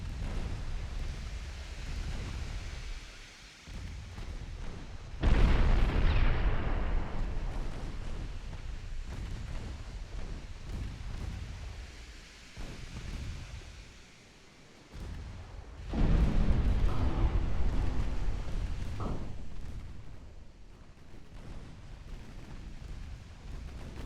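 Heavy 13-inch naval guns firing in Ultimate Admiral: Dreadnoughts, two deep booming salvos with long rumbling decays over a low background roar, no talk.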